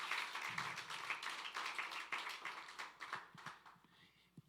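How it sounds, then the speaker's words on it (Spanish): Church congregation clapping together at a Spanish-language service, a dense steady patter of many hands that thins out toward the end, moderately close and without talk. "Dale un fuerte aplauso al Señor"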